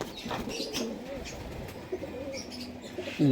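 Pakistani high-flying pigeons coo softly in short murmuring phrases close by, with light chirps and a brief louder burst at the end.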